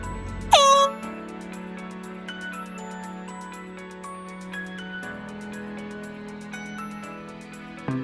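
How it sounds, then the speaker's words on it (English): A steady horn-like tone used as a fog signal aboard a sailboat in foggy conditions in Puget Sound's San Juan Islands, sounding for about four seconds and then stopping, preceded by a brief sharp burst, with no talk. "Xena was doing the noise maker, as you're supposed to when you're in foggy conditions"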